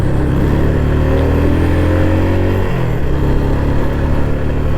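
A car engine labours up a steep hill road on the way to Yercaud, giving a loud, steady drone that shifts pitch midway as it strains under load.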